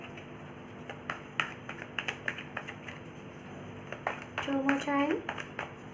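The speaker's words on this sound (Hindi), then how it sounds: "मैं कार्ड शफल करूँगी" Tarot cards are shuffled by hand in quick flurries of crisp taps and flicks, close and fairly quiet, while someone talks between the bursts.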